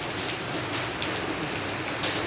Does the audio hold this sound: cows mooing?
no